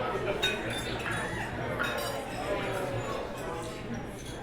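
Glasses clink in a wedding toast, several light, bright chinks of glassware scattered over a room full of murmuring guests and talk.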